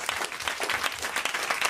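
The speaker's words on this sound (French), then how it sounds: "On vous applaudit." An audience at a French TV comedy show bursts into applause for Camille, the winner: dense, steady clapping from a crowd, close and continuous, with no voices over it.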